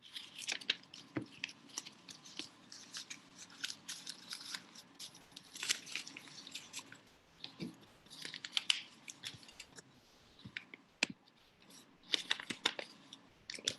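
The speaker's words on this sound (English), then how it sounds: "I'm going to cut out this shape with the scissors." Close, quiet snips of scissors cutting paper, irregular clipping and rustling with short pauses between cuts.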